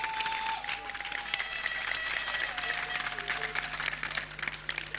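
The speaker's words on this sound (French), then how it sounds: "On peut l'applaudir." An audience at a war college diploma ceremony in Kinshasa applauds the top graduate of the class, a dense patter of clapping hands mixed with crowd noise and sustained tones.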